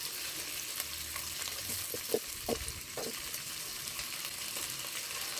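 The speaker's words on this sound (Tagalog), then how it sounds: "going to fry here my whole head of garlic." A whole head of garlic fries in a pan, giving a steady close sizzle with a few soft stirring knocks partway through.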